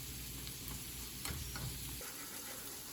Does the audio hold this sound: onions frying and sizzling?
yes